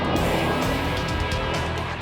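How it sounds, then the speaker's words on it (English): An empty car doing donuts, its engine droning steadily with tire noise throughout, loud and close with no pauses. "An empty car doing donuts and a police car with its lights flashing."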